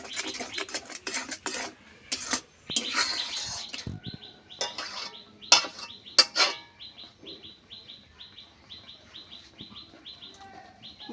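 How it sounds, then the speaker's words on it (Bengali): Palm fruit pulp cooks in a pan while a utensil clatters and scrapes against it in irregular bursts, with a bird chirping repeatedly in the background. "এই দেখুন তালের নোট কি দারুণ ফুটছে"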